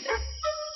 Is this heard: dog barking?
yes